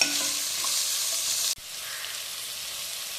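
Sliced medium onions being stirred in a hot pan while cooking a Kerala chicken perattu, a steady broadband sizzle with a brief break midway before frying resumes, alone with no voices.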